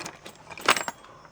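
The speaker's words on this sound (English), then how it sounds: "Alright, race mode keys." A bunch of keys jangles and clinks in a short flurry, with one sharper metallic jingle near the middle, close and fairly loud, on a race boat.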